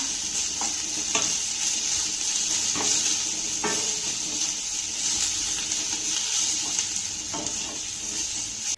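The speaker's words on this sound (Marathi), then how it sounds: "आता यावर आपण बारीक चिरलेली कोथिंबीर घालूया त्यानंतर ही कोथिंबीर देखील आपण चांगली मिक्स करून घेऊया" Bottle gourd vadas with finely chopped coriander stirred and frying in a pan, with a steady loud sizzle and a few scraping strokes of the spoon, no talking.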